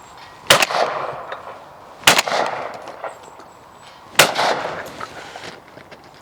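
Three loud, sharp shotgun blasts from a Browning Maxus 2 Black Duck, evenly spaced about two seconds apart outdoors, each with a short ringing decay.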